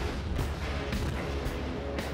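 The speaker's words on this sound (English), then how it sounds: "I absorbed the whole fucking salvo of torpedoes" Torpedo salvo striking a ship in World of Warships, heard as dense, booming explosions with several rolling impact bursts stacked over a loud, continuous rumble.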